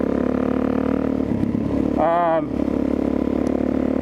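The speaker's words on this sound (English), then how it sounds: "This bike I'm riding right now, kind of an interesting story." A Kawasaki KLX470 motorcycle being ridden, its steady engine drone running throughout with a brief rising rev partway through, close and continuous under a rider talking.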